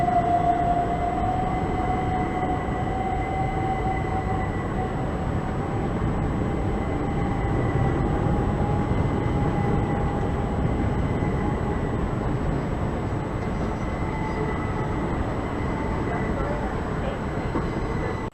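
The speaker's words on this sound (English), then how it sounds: "that's another Cross 375 that goes somewhere" Class 375 electric train passing St Johns station in London, a steady rumbling roar with a faint high motor whine, fairly close and continuous throughout.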